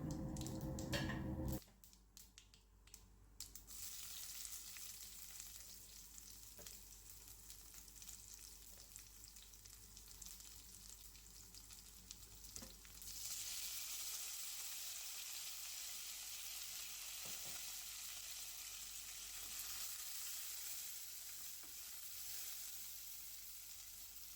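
Mustard seeds, cumin and dried red chillies sizzle and crackle in about two tablespoons of hot coconut oil, a steady hiss that swells louder partway through, close with no talk.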